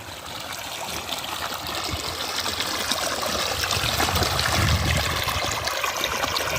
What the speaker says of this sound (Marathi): पाटाचं पाणी इकडून भारी असं मस्त खळखळ खळखळ आवाज येतो